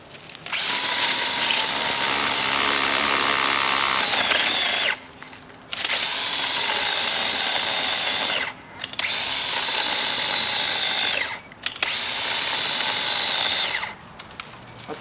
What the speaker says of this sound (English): let's get the chainsaw out. We're gonna go ahead and try this cordless Black & Decker